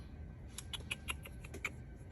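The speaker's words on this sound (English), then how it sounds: "You guys heard meowing earlier in the video." A cat gives a quick run of short, soft meows and squeaks, fairly faint over a low background hum.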